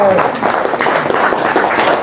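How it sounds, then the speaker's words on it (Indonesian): Applause from a seated audience at a talk or seminar: a continuous wash of clapping, moderately loud, with voices audible over it. "Tepuk tangan."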